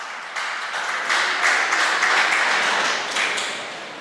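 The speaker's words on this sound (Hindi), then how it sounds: "जोरदार तालियां हो जाए।" An audience claps to welcome a singer contestant onstage at a singing competition, a crowd of hands swelling into steady applause that fades slightly at the end.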